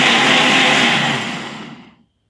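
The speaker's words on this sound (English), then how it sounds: "We're gonna blend it up now," A blender whirring through blueberries and bananas for a smoothie, loud and close, a steady broadband roar that winds down and stops about two seconds in.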